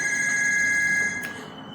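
A telephone rings with a steady electronic tone that cuts off near the end, close and fairly loud, with no talking over it.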